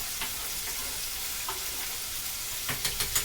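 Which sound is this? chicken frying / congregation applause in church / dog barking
chicken frying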